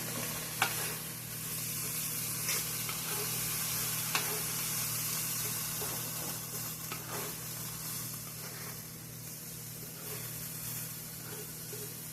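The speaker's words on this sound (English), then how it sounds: "Add half an onion right now. Cut up small." Chopped onion sizzling in a pan for goulash, with a steady low frying hiss and occasional stirring scrapes throughout, moderately quiet and continuous, no talking.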